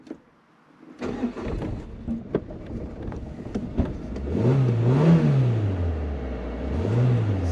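A car engine cold-starts on 100% ethanol fuel after repeated tries: a brief churning crank and sputter, then the engine catches and revs in rising and falling swells, close by, without talk.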